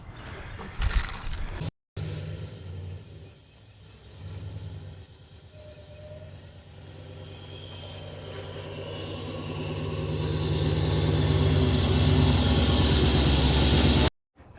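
Supercharged Dodge Dakota RT with an Eaton M122 blower, its engine running on only seven cylinders, a steady uneven low drone at idle that grows gradually louder and rougher, with two brief dropouts.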